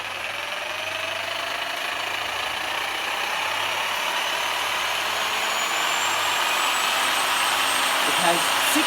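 An 800 watt Crown jigsaw runs steadily with a broad motor whine, its pitch rising gradually as the speed is raised, close and continuous throughout.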